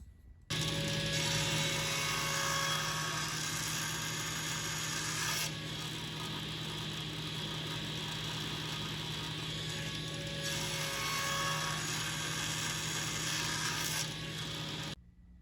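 A table saw with a sled nibbles shoulder cuts into wood, making a loud, sustained whining buzz with a grinding, rasping edge. It dips briefly partway through and then continues before stopping abruptly.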